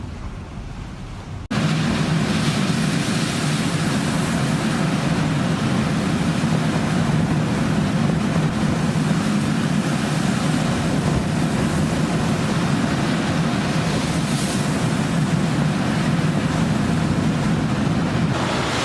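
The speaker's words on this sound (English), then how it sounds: "A loaded cargo ship got caught in a storm in the Bay of Biscay. The waves passed through the entire deck of the ship." Storm waves wash over the deck of a loaded cargo ship in the Bay of Biscay, a loud continuous roar of surging water and wind that starts abruptly and holds steady with no voices.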